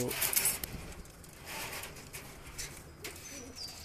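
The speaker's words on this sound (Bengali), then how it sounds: "এই ঘরটায় 4 পিস লক্কা রাখা আছে" Lakka pigeons coo in a high-flying pigeon breeding loft, repeated soft throaty calls nearby with a few brief flutters, quiet speech in the background.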